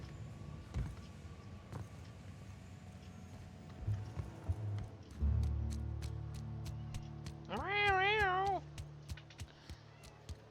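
In a video game, a kitten gives one drawn-out, rising and falling meow near the end, over low rumbling background noise and faint clicks.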